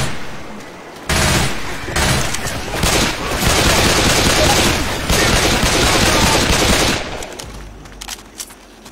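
Rapid automatic gunfire in a VR shooting video game bursts in suddenly and rattles on in a dense, loud fusillade for several seconds, then cuts off, leaving scattered faint sounds.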